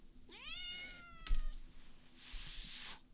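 A cat gives one drawn-out meow, close and clear, followed by a short burst of hissy noise; no one speaks.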